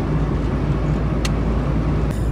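Steady road traffic on a highway leading out of Urfa, with cars continuously passing close by as a loud, even rumble and no talk.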